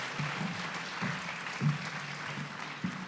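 An audience at a European research event applauds to welcome a guest speaker, a continuous wash of clapping with a few louder, closer claps punctuating it at irregular intervals.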